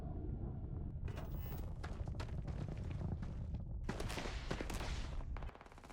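Gunfire in the sci-fi game Starfield crackles in quick, faint bursts of shots and thuds, with a denser volley near the end.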